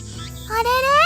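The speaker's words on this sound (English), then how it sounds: "I can hear the chirping cicadas from the trees." Cicadas chirp in trees at a shrine in the video game Steins;Gate, a loud rising buzzing trill that swells in the second half after a quieter opening, heard up close and without talk.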